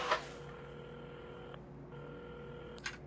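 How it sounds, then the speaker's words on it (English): In a small café in the game Assemble with Care, a telephone at the counter is dialed: a soft click at the start, then a steady faint electronic tone that breaks off briefly and resumes, ending with another click. "at the counter, Carmen had started dialing the phone"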